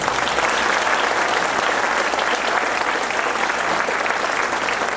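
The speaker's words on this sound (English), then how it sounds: "Let's give them a round of applause." Loud, dense applause from a large audience at a 2014 high school senior awards ceremony, a continuous roar of many hands clapping at full strength without letup.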